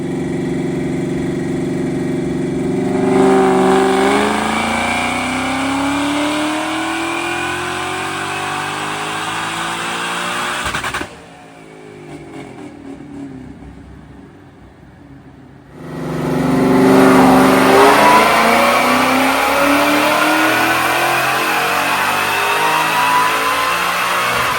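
Ford Fox Body with a GT500 engine swap revving hard on a dyno, a loud rising engine roar that cuts out abruptly, idles lower for a few seconds, then surges back to full wide-open howl.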